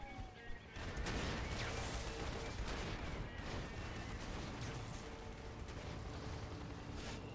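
Quad cannon fire rattles in the real-time strategy game Rise of the Reds, a dense, continuous barrage of rapid shots and blasts filling the battlefield at steady loudness with no pauses.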